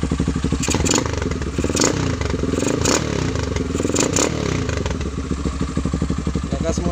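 Kawasaki Z200s motorcycle fitted with a 30mm carburetor, its engine loud and close, idling with a rapid rough clatter and blipping through several sharp revs.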